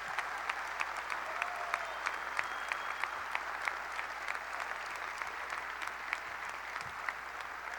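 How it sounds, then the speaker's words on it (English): Sustained applause from a large convention crowd honoring Minnesota House members at a state GOP convention, steady dense clapping at moderate distance throughout with no talk. "Give them a round of applause."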